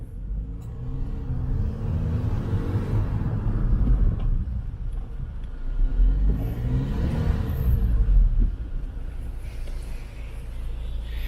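Hyundai Grandeur IG diesel sedan braking during a road performance test, heard from inside as a steady low rumble of engine and road noise that swells and eases in waves, with no talk over it.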